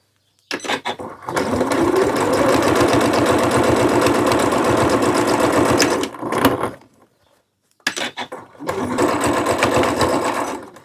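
A sewing machine stitches a baby's beach poncho, running in two long, loud bursts of rapid, steady needle chatter separated by a short pause and a few brief starts.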